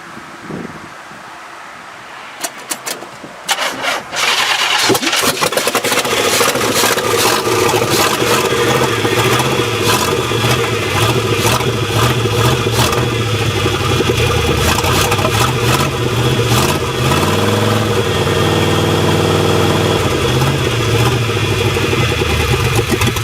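After a few cranking attempts with the choke on, an old engine cold-starts, sputtering to life and settling into a loud, rough idle, with gusty wind buffeting the microphone.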